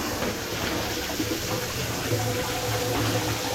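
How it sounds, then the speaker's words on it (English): Water pours steadily into a tub being filled to wash a climbing rope, a continuous broadband rush with no break or change in level for the whole span. "Fill the tub one more time."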